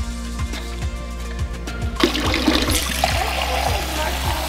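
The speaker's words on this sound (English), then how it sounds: "Then we're going to add some warm water." Warm water pours steadily into a container with the pellets, a close, continuous trickling and splashing over a low mechanical hum that grows fuller partway through.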